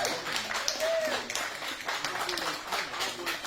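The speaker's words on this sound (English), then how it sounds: "Let's give him another warm hand clap." A jazz audience gives a steady, soft patter of hand applause for a musician, with a speaking voice over the clapping and a brief whistle-like tone rising above it.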